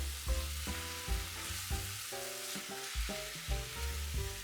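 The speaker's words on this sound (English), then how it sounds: "And we'll mix in our beautiful cooked tomatoes." Cooked tomatoes are stirred into a hot pan for vegan shrimp saganaki, a steady sizzle and fry punctuated by soft rhythmic scrapes and stirring thumps, close and continuous with no talking.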